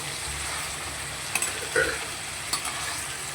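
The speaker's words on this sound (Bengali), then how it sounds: "এই পনিরটাও আবার ভেজে তুলে নেব" Paneer pieces frying in hot oil give a continuous, dense sizzle close by, with a few soft clicks and scrapes from a utensil moving them around.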